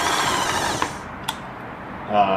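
A Singer Touch and Sew 750 sewing machine with a faulty controller runs with a steady mechanical whir, two brief clicks partway through and a rising hum at the end, close and moderately loud.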